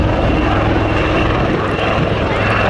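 A Royal Navy Westland Wildcat helicopter flying a looping display at Cosford Air Show, a steady loud roar of rotor and engine noise throughout.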